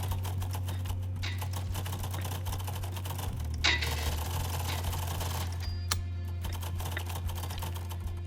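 Rapid keyboard typing during a typing test battle royale game, a dense run of quick clicking keystrokes with a few sharper taps, over a steady low electrical hum.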